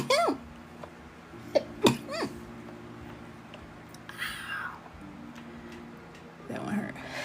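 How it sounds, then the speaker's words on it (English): A sharp sneeze bursts out close by amid a few vocal sounds, followed by quieter breathy noises. "Oh, I gotta sneeze."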